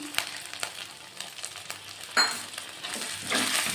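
Turmeric and chilli sizzling in a pan for a potato and parwal curry, a soft steady fry with a few stirring scrapes and a louder hiss swelling near the end.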